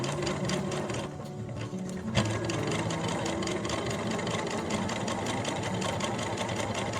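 A sewing machine runs steadily, stitching a fabric face mask and finishing with a back stitch, with a continuous close-up mechanical whir and rapid needle chatter throughout and a brief dip partway through.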